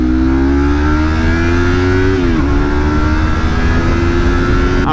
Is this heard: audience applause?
no